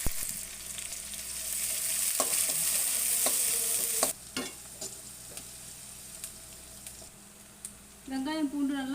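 Mustard seeds, fenugreek, garlic and small shallots sizzle in hot oil in a pan for fish curry, a steady close frying hiss with occasional stirring clatters, briefly fading before a voice speaks at the end.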